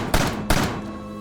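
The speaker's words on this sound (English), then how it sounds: "Oh, I forgot the gun made noise." Two sharp, loud gunshots about a third of a second apart from a gun in a VR zombie shooter video game, each a hard thump with a short decaying tail over steady background noise.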